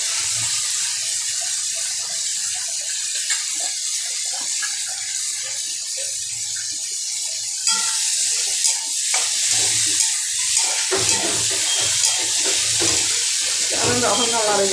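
Curry leaves sizzling in hot oil while upma is made, a continuous hissing crackle with sharp spitting pops that grow busier and louder halfway through.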